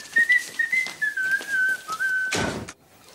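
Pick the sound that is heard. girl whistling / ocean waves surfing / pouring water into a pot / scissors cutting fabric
girl whistling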